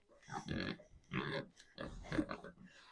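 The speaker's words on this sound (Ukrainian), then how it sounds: "ось такі в нас вже свинки виросли" Pigs grunt and snuffle in a few close, bursty clusters, several animals overlapping with short pauses between.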